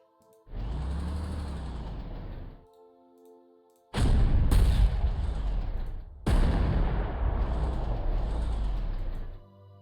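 Heavy booming shots of artillery fire in the Panzer Corps 2 wartime strategy game, three loud, separate blasts each with a long rumbling tail.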